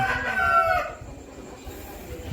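A rooster crowing at a poultry farm selling many breeds of roosters, one loud crow in the first second, then quieter farm background.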